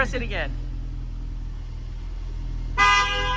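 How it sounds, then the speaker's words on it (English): A Ford Bronco horn blares once near the end, loud and close, after a brief earlier beep and a stretch of low idling rumble. "so here's the horn"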